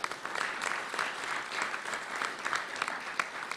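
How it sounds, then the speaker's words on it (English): A luncheon audience at a journalism awards event gives a modest round of applause, scattered steady clapping at moderate distance with a few sharper individual claps standing out. "So give a round of applause to them."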